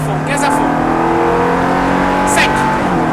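A Ferrari F430 engine pulls hard at full throttle on a track during a driving course, a loud sustained rising howl heard from inside the car with an instructor talking over it.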